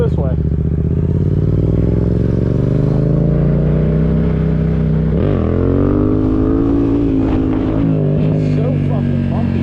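Loud motorcycle engine revving hard during little wheelies between stop signs on the streets of an abandoned part of Johnstown, PA, with steady harmonic drone that dips and surges around the middle as the throttle is blipped, close up throughout.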